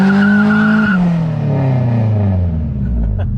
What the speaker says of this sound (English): Rev it up to 5 grand and do it.